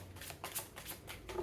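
Tarot cards shuffled by hand at close range, a rapid series of soft papery riffling bursts and flicks repeating in quick rhythm, quiet and alone.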